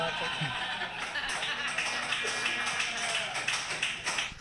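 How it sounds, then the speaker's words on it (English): Applause from a comedy show audience after a joke, steady dense clapping mixed with a little laughter, close and fairly loud throughout. "An applause break for a racist ass joke"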